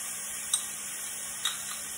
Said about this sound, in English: You guys can probably hear the sizzle going on here.